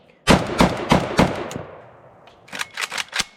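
A Polish Beryl M1-223S 5.56 rifle fires outdoors: four loud, sharp shots in quick succession, a short pause with echo trailing off, then a second rapid burst of about four more shots.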